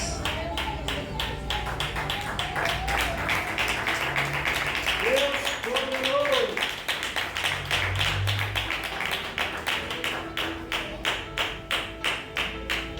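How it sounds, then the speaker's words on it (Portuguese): A church congregation at an evening service claps hands in praise, a dense, steady rhythmic patter of many palms continuing throughout, with a voice speaking over it partway through. "Sempre glorifica com as palmas."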